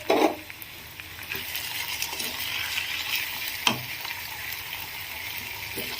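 Potato curry with coriander powder and red chili powder frying in a pan, with a close, steady sizzle; a brief stirring scrape comes at the start and a few light clinks follow later.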